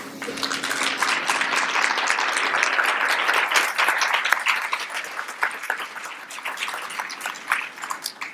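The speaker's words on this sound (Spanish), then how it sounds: "Va ese aplauso afectuoso hasta por allá con Michael Gorman" Dense audience applause from a seated crowd at a museum panel discussion, steady clapping for several seconds that thins out gradually toward the end.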